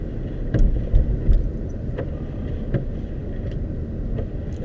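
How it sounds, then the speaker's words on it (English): A car rolls slowly through a small snowy town, its engine and tyres giving a steady low road rumble close by, dotted with a few soft knocks and bumps. "I'm just driving through now, driving through the little town."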